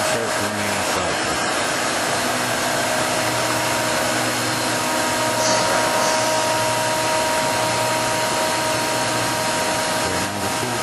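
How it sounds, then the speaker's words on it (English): A CNC machining center with an automatic tool changer runs its cycle, giving a loud, steady whirring hum with a fan-like hiss that stays constant throughout. "And the machine starts running a cycle."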